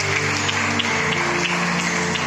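A church congregation at a Sunday morning service claps together in a steady, even wash of applause, a few louder claps poking through over a low sustained hum in the hall.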